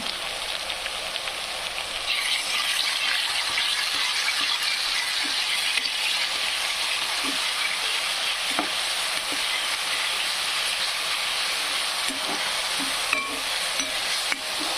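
A paste of ground chilli, garlic and coriander fries and sizzles steadily in a pan, with soft occasional stirring scrapes over a continuous crackle; no one speaks.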